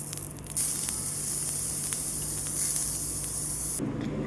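Onion and tomato roasting over an open flame for a black masala drumstick curry, a steady close hiss and sizzle with faint crackles throughout.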